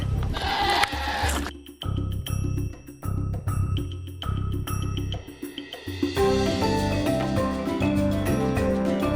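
Alpine goats on a farm bleat repeatedly in a loud, overlapping chorus, some calls near and others farther off, with faint bell-like jingles mixed in.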